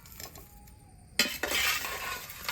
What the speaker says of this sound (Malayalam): ഓക്കെ, സോ നമുക്ക് നമ്മുടെ ചിക്കൻ ഫ്രൈ ഇനി പ്ലേറ്റ് ചെയ്യാം.